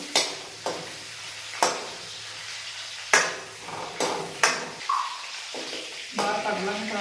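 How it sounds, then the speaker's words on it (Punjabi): Puffed fox nuts (makhana) fry in a pan for prasad, with steady sizzling broken by repeated sharp scraping strokes of a spoon against the metal, and a voice is briefly heard over the cooking. "ਇਹਨਾਂ ਨੂੰ ਆਪਾਂ ਫਰਾਈ ਕਰ ਲਾਂਗੇ ਦੋ ਮਿੰਟ ਫਰਾਈ ਕਰ ਲਾਂਗੇ"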